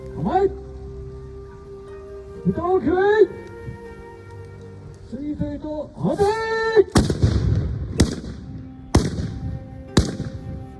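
Japanese matchlock guns fire at Matsumoto Castle, with someone speaking first and then four sharp, loud reports at roughly one-second intervals, each trailing a brief echo.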